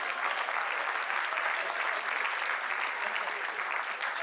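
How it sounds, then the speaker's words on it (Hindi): An audience at a Hindi comic poetry gathering claps steadily and densely throughout, an even wash of applause with no pauses. "तालियां कम है थोड़ी सी"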